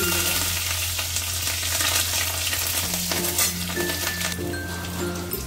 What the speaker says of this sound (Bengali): দেখো ফোড়ন লঙ্কা ভাজা ভাজা হয়ে গেছে